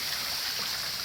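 A small waterfall at Manaoag pours water in a steady, faint, even rush of splashing flow, heard alone without any voices.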